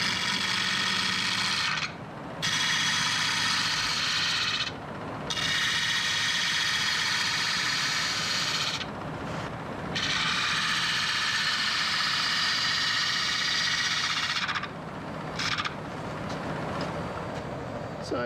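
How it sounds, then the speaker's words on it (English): Wood lathe rounding a segmented birdhouse piece, with a loud, steady motor hum and hissing cutting noise that runs for several seconds, drops out briefly several times, then resumes. "I'm going to round off the other end, this one little piece, sand it to 120 grit, and then finish rounding the inside."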